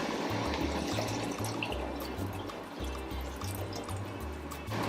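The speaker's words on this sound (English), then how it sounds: "And now some water." Water pours into a pot holding softened onion and beans for watercress soup, a steady close splashing and gurgling fill lasting several seconds, with a low pulsing hum beneath.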